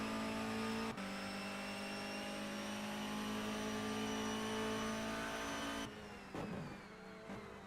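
Onboard engine of the Shredded Wheat touring car in a BTCC sim race, a steady loud high-revving drone holding pitch with a brief gear-change dip, then shifting and lifting near the end, with no voices.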